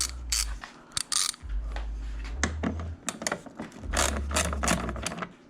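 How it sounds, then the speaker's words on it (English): Ratchet with a 10mm socket loosening a tail light bolt on a Tesla Model 3, giving bursts of close, rapid clicking and mechanical rattling alongside a low hum. "next step is to remove this bolt"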